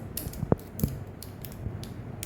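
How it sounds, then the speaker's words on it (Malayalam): The seal being opened on a new bottle of rosemary water, a few sharp, close plastic clicks and creaks spaced over two seconds, with no talking. "റോസ്മേരി ഒന്ന് പൊട്ടിച്ചേ പുതിയ ബോട്ടിലാട്ടോ"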